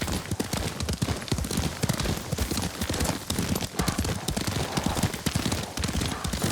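Horse hooves clip-clop in a steady, rapid gallop as a rider travels across open ground in Ghost of Tsushima, loud and continuous throughout with dense rhythmic impacts.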